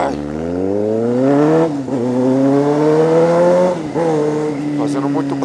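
A Toyota Hilux revving loudly at night, engine pitch climbing in long sweeps, dipping briefly, then rising again, close and dominant.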